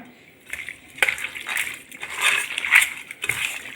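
Raw chicken mixed by hand in a bowl with turmeric powder and salt: soft, wet squelching and clinking scrapes come in irregular bursts, close and moderately quiet.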